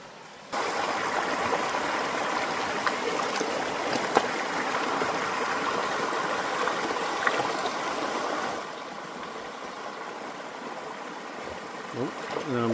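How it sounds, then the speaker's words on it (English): A small, lazy river or creek in the Nova Scotia interior flows steadily close by, a broad even rushing wash that runs for most of the span before dropping away, with a voice starting at the end. "nice little lazy river here"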